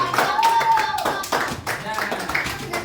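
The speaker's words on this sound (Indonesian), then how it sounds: "Tepuk tangan buat Cleo." A classroom breaks into a short burst of applause, scattered clapping from several hands mixed with voices talking over it.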